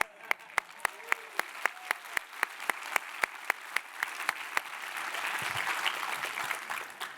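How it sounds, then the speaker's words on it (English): Scattered conference-audience applause as a board member stands, with distinct individual claps at first that fade into a rising murmur of crowd chatter. "so if you could stand up really quick and give more applause."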